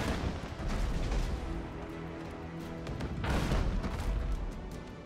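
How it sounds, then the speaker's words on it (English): Grape shot cannon fire in the naval game Abandon Ship sounds as deep, rumbling booms, with one blast near the start and a heavier eruption past the midpoint, set over a low continuous background rumble. "This one is a grape shot. It's anti-personnel weapon."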